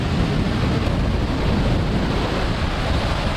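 A jungle waterfall in Mexico pours with a strong, swollen flow after rain. It gives a loud, steady, close-up rushing roar with no pauses and no voices.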